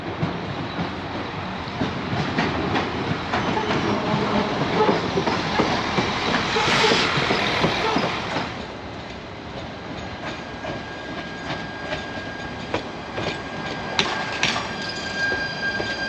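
A narrow gauge train in northern Spain rumbles along the rails with a steady clattering roar, then eases off into quieter rolling with faint squeals and clicks.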